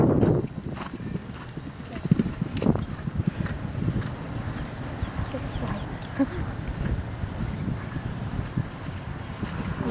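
A horse walks, its hooves clip-clopping in an irregular rhythm outdoors under wind noise and nearby voices talking.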